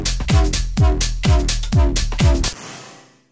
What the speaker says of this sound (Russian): сделать самую-самую примитивную Wobble волну